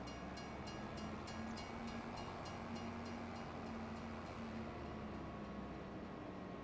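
Train in the video game Farming Simulator 25, a steady rumbling rail roll with a faint sustained horn-like tone, continuous and fairly distant throughout with no talk.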